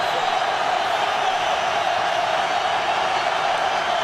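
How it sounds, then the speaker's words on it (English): A stadium crowd at a Chiefs home game in Kansas City, Chargers visiting in 2009, sends up a continuous, even roar of distant voices with no breaks. "Crowd hasn't given up here in Kansas City."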